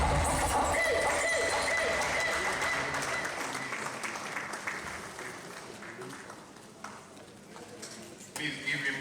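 A summit audience claps in dense sustained applause, loud at first and gradually thinning toward a few scattered claps, with a voice speaking faintly beneath.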